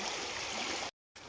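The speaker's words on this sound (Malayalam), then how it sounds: "പക്ഷെ ഒഴുകുന്ന കണ്ട വലിയ പുഴ പോലെ ഒഴുകുന്നു" Floodwater from monsoon rain pours across a paddy field in Pala like a river, a steady, close rushing flow that cuts out abruptly near the end and then resumes.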